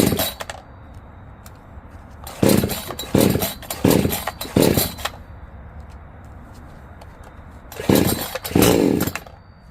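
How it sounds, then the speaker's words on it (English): Eampic 68cc two-stroke chainsaw with an 18-inch bar, revving in several loud bursts between quieter idling stretches, close to the microphone. "So I am going to flip it on, pull the choke,"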